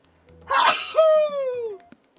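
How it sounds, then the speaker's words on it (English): A single sharp human sneeze bursts out at close range, followed by a brief trailing vocal tail. Quiet comes before and after it. "Why do I always sneeze when I film these things?"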